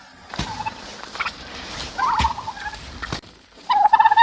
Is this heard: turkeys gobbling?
yes